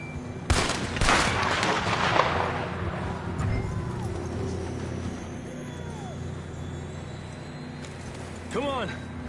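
Loud gunfire bursts at first, then galloping hooves and horse neighs sound amid game noise, with shouting voices, in the video game Red Dead Redemption 2.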